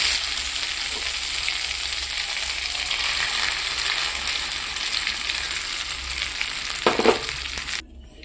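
Pea paste fries in a hot pan for kachori filling, a steady close sizzle and crackle throughout, with a short scrape of stirring near the end before it cuts off.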